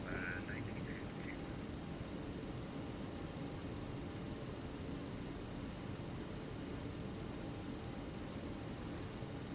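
Jet engines of a Boeing 737-700 in the X-Plane 12 flight simulator drone steadily at high power during takeoff, a dense continuous roar with a brief radio chirp near the start.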